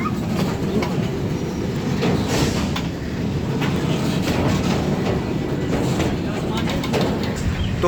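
A train clatters steadily as it pulls into Khanpur railway station, with a continuous rumble and clickety-clack of wheels on rails, loud and close throughout.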